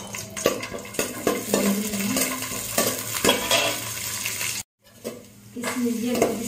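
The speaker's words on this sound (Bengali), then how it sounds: "এখন আমি কাজু বাদাম আর কিসমিসটা আগে ভেজে নিব" Cashews and raisins frying in ghee give a busy sizzle broken by repeated scraping and stirring strokes of a utensil against the pan, with a brief dropout near the end before the sizzling resumes.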